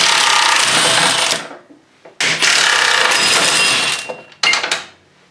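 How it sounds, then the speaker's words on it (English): A 3/8 impact wrench with a 1/2 inch socket and extension removing a bolt from a snowblower engine, loud close bursts of rapid hammering, first a long run, then a longer one, then a brief final burst, with short pauses between. "to remove these bolts, I'm using my 3/8 impact with a 1/2 inch socket and extension"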